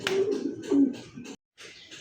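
Rajshahi Giribaz pigeons, blue bar birds, give soft, close throaty coos in a few short repeated phrases with a brief pause near the end.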